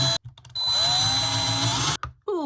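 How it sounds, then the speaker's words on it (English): Handheld power drill boring holes through a tumbling block, resting on a piece of wood, for a Christmas bauble craft: short start-stop bursts, then a sustained loud whirring run and a brief restart, close up with no speech. "I'm going to put a hole either side of my tumbling block using my drill"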